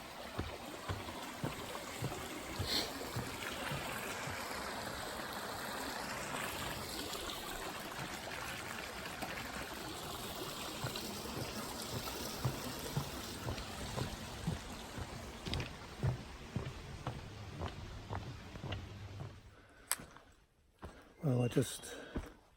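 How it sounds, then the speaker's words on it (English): Winhall River flows steadily beside a Vermont stretch of the Appalachian Trail, a continuous broadband rush of water throughout, with footsteps and small knocks near the end as someone crosses. "Crossing Winhall River."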